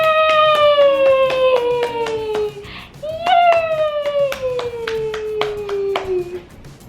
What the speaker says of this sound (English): Can you show them how you clap?